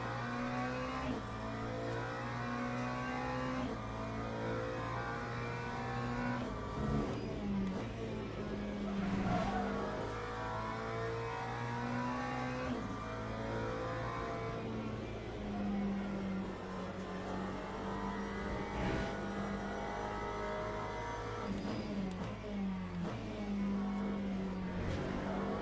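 Race car engine in Le Mans Ultimate sustained through a lap, with steady harmonic drone rising and falling through gear changes, occasional tyre squeal and skids, loud and continuous with faint commentary underneath.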